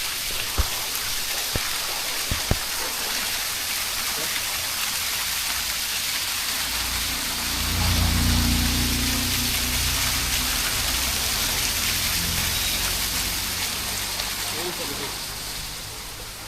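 Water rushes steadily for the whole stretch at Shivghat on the Dang Ahwa jungle road, a dense continuous wash of noise that swells a little in the low end partway through.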